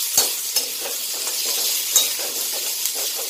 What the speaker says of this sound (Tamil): சேர்த்து வெங்காயம் நல்லா வதங்கணும்